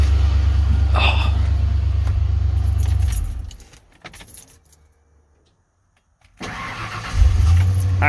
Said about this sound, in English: And if I shut it off and then turn it back on.